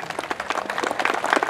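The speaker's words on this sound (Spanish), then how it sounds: "le pido fuertes y calurosos aplausos a todos ustedes." Crowd at a rural jaripeo on a ranch breaks into brisk applause, many hands clapping in a dense, rapid patter that builds slightly toward the end, with no talk over it.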